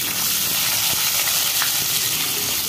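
Chana dal and urad dal frying in two spoons of hot oil while making South Indian rava uppittu, a loud, dense, continuous crackling sizzle held close and steady throughout, with no talking.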